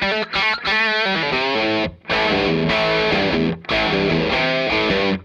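Heavily distorted electric guitar through a Red Witch Famulus pedal's second gain circuit, with a nasal, honky midrange, playing chords and notes in bursts with two short pauses, loud and up close.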